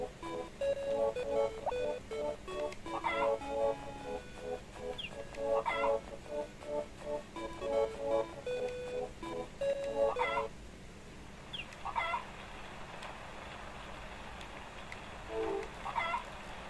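Chickens cluck in the farm game Harvest Moon: Friends of Mineral Town, giving short repeated calls over a looping tune that fades into a steady wintry wind, with a few more clucks near the end.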